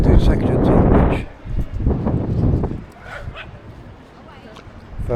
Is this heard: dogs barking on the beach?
yes